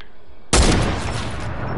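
A single loud, close gunshot in the video game Fortnite bursts in abruptly and leaves a dense ringing wash behind it.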